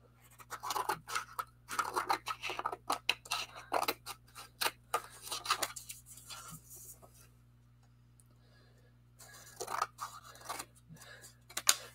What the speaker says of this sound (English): And take my scissors and go right around the edge.